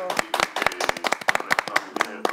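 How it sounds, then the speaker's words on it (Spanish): A small parish prayer group claps during a family rosary gathering, a quick run of distinct close hand claps with uneven rhythm, some overlapping, and voices mixed in between. "¡Un aplauso!"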